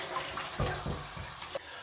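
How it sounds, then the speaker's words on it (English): Water splashes as a face is wetted before a shave: a few short splashing bursts over a soft running-water background, ending abruptly in near quiet. "we're going to go ahead and wet the face and get going with the shave"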